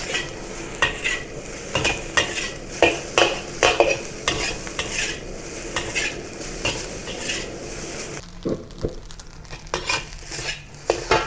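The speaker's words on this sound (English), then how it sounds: "Gradually increase the heat and continue stir frying until the rice starts to jump and pop." Basil fried rice being stir fried over rising heat in a wok or pan, with constant scraping and clattering of the utensil against the metal and a sizzle underneath, loud and close, with no talk.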